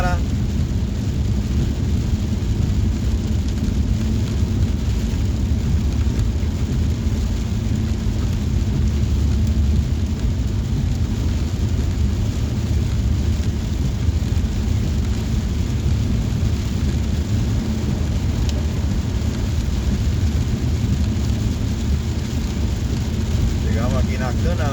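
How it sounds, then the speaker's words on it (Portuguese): Heavy rain pours steadily on a car driving through a storm, a dense, unbroken hiss with a low rumble beneath it, lasting the whole stretch without a break. "Chuva não para."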